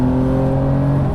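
A 2020 Porsche 992 Carrera 4S engine drones loud and close with a steady tonal hum as it pulls out of a corner on a winding mountain road, holding an even pitch with no voices.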